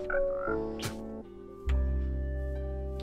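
In Minecraft, a frog gives several tonal, buzzy croaks, each followed by a short gap, while a lower synthetic tone from the game swells in partway through.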